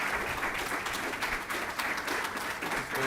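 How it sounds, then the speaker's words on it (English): A crowd at Morehouse College claps for Governor Albert Bryant, Jr. of the Virgin Islands, giving a continuous, even round of applause, moderately distant and fairly quiet, with no clear break. "Give him a round of applause"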